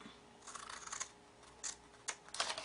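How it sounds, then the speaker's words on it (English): Large scissors cut through craft paper for a spider web luminary, giving a few separate crisp snipping bursts, quiet and close, with short pauses between cuts and no talking. "Okay, let's get my big scissors out."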